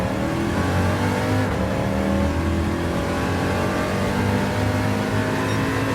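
A racing car engine in Gran Turismo 7 drones loudly and steadily, revving as it climbs through the gears in an ice race, with no talk.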